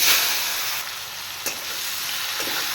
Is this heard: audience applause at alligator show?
no